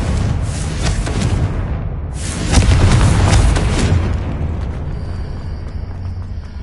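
A Confringo blast spell in a Harry Potter wizarding video game: a loud, rumbling magical burst swells, briefly cuts out, then booms again more heavily before fading into a low, steady hum.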